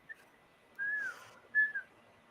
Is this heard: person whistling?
yes